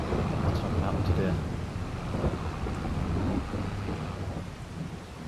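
Steady rain with a low rumble of thunder in the video game Farming Simulator 22, a continuous dense wash of weather noise throughout.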